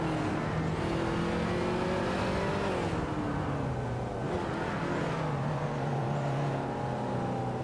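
Racing car accelerating away, a loud continuous engine roar with rising and falling revs through gear changes, close and sustained.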